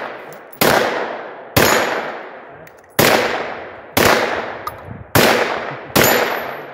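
Gunfire from a Turkish MKE AP5, a clone of the MP5 submachine gun: six loud, sharp single shots spaced about a second apart at an outdoor range, each one ringing off with a fading echo.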